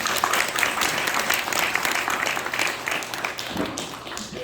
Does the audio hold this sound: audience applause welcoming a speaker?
yes